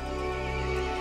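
A horse neighs in the Resident Evil Village game, a sustained, strained tonal whinny held for about a second at moderate loudness with no talk.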